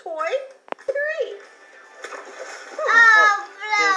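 Stones plop into water one after another with short splashes, mixed with excited children's voices and an adult talking over them.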